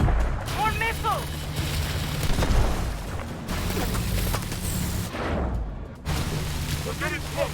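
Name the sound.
missile explosions in video game Call of Duty: Advanced Warfare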